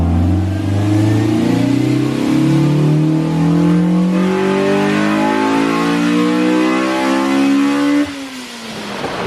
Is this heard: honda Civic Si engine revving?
yes